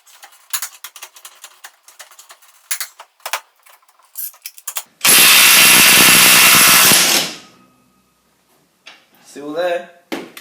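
A Makita or Milwaukee half-inch cordless impact wrench hammers loudly for about two seconds in a dense rattling burst, preceded by scattered clicks and handling noises, with a short stretch of speech afterward.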